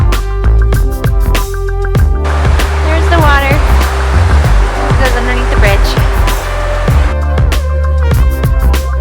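Water rushes and splashes beneath a bridge in the snow at North Adams, Massachusetts, a loud continuous flow with a person talking over it.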